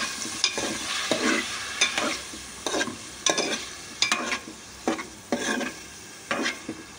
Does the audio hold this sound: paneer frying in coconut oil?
yes